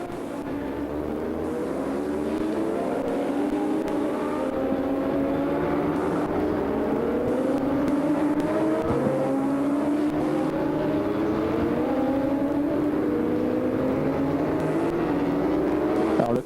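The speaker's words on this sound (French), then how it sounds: "la Yamaha Freebike est passée devant la Yamaha officielle de Yamaha Motor France de Martial Garcia" Yamaha racing motorcycles at the 2001 Bol d'Or endurance race, including the Yamaha Freebike and the official Yamaha Motor France bike, roar past one after another with rising and falling engine whines over a steady crowd-and-track din.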